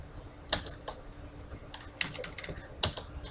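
Computer keyboard typing, a close irregular patter of key clicks with a few sharper, louder strokes, no talk.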